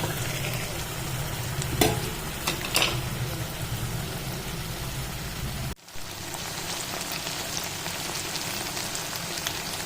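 Soaked chicken, added with tomatoes, salt and turmeric for a simple curry, fries and gets stirred in a pan, a continuous close sizzle broken by a few scraping strokes and a brief dip partway through.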